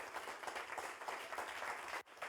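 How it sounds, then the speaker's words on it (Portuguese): A church congregation claps together in worship, a soft, distant wash of applause that holds steady before briefly dropping out near the end. "Eu queria que você aplaudisse o Senhor por isso."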